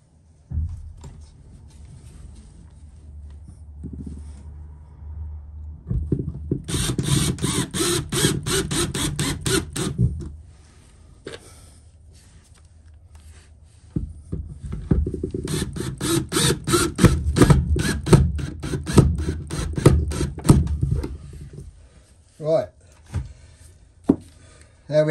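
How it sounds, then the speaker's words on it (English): Two screws are driven in while a split charge relay is mounted, giving two long spells of rapid, close ratcheting whirr from a driver separated by a quiet pause, with a few knocks at the end. "So I'm going to put the two screws in, one at the top, one at the bottom."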